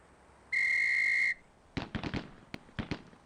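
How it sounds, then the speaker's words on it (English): A single sharp, loud whistle blast in the Police Quest SWAT video game sounds for under a second, followed by a quick volley of popping semi-automatic gunshots. "On the whistle."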